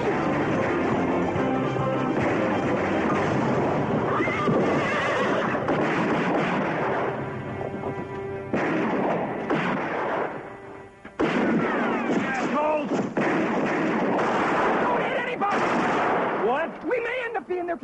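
Heavy gunfire crackles and booms in bursts amid loud commotion and horses whinnying, with a brief lull midway before the shooting resumes.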